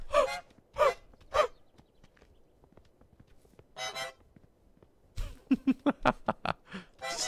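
A goose honks in Untitled Goose Game with a series of short, nasal honks. There are a few spaced calls first, then a rapid burst of honks near the end, all loud and close against a quiet background.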